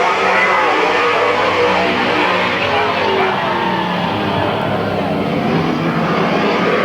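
Race cars circling Midvale Speedway, a dense, steady roar of engines that stays loud and unbroken throughout with no break in the noise.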